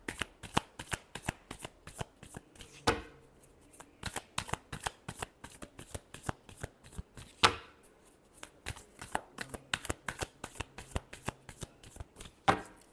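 Tarot cards are shuffled by hand up close in a steady, rhythmic run of quick papery riffles and taps that lasts the whole stretch, with no speech.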